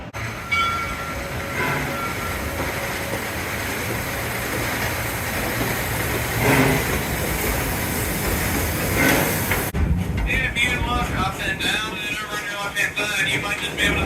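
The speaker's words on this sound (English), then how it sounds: "Now I'm going to take a little train ride around the park." An amusement park train ride at Kings Island rolls along steadily, a continuous rumble and rattle of railcars up close for most of the stretch, shifting to a brighter, clattering texture near the end.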